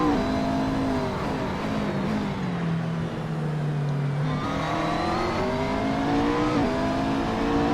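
BMW GT race cars in a racing video game on the Portimao circuit, engines whining and climbing through gears as they pass and accelerate, a continuous overlapping roar with pitch rising and falling.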